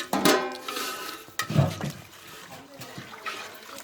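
About four kilos of soaked biryani rice are washed by hand in water, with close sloshing splashes and a trickling pour in uneven bursts.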